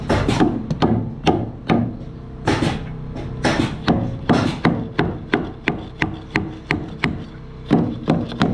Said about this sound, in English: It's so much easier with this hammer.